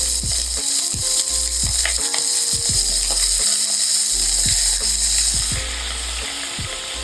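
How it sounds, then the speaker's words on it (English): Beef searing in a pot for a one-pot beef and vegetable dish: steady loud sizzling and frying with scattered sharp pops and crackles, no talking. "when you sear, things do tend to pop, so you gotta be careful"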